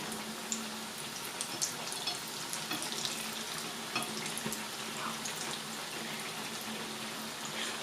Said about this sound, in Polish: I po drugiej stronie też smażymy do zarumienienia.